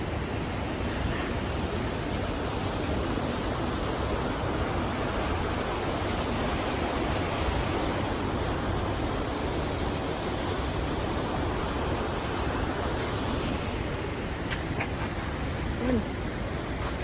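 A river flows through an old town, a broad continuous rush of water that stays steady and fairly loud for the whole stretch, with faint scattered background sounds near the end.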